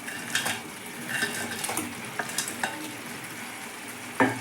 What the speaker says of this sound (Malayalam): ചിക്കൻ ഇട്ടിട്ട് നല്ല ഇളക്കാം.